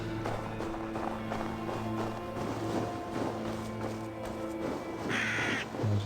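Crows caw repeatedly inside the video game Assassin's Creed Valhalla, set against a steady bed of game ambience and sustained tones, with faint tapping like footsteps.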